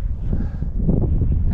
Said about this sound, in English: just as I want to start fishing at the lake, the wind starts blowing